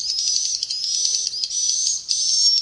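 An electronic bird-call device, the Sufar Sinar 77, plays at its lowest setting, giving a continuous high, piercing chirping trill with brief dips and restarts, loud and close with no talk.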